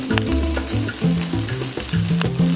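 Pork pieces frying and browning in hot oil for binagoongang baboy, a steady close sizzle and crackle with occasional stirring scrapes, heard alone with a faint musical tone in the background.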